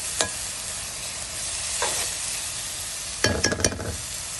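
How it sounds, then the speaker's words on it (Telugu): Onions, green chillies and ginger garlic paste sizzle steadily in a pan for a shrimp fry, broken by a few brief stirring scrapes and clinks, close and continuous. "శుభ్రంగా ఇది గోల్డెన్ బ్రౌన్ వచ్చే వరకు వేయాలి"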